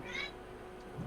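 Indoors, a cat gives one short meow near the start, moderately loud against low room noise.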